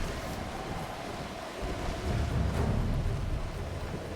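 Wind blowing in the Tomb Raider video game, a continuous rushing, gusty roar that swells slightly midway and carries on steadily throughout, with no talking.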